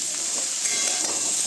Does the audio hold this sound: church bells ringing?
no